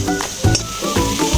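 Pointed gourd pulp paste sautés with spices in a pan for a gourd chop. A low sizzle runs under a few close scraping stirs, with faint tonal background sound.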